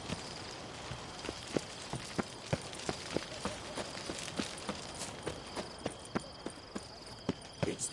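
Horse hooves in Witcher 3 clip-clopping at a steady walking rhythm, a regular series of crisp, moderately close hoof strikes with no pauses.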